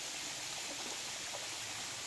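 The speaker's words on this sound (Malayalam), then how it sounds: "മലയുടെ മുകളിൽ നിന്ന് വെള്ളം വരണണ്ട തട്ട് തട്ടായിട്ട്" Water flows down a mountainside in tiers, a faint, steady broadband rush like a distant stream or small waterfall, continuous and unbroken with no voices.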